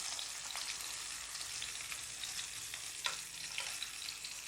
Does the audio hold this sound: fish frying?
yes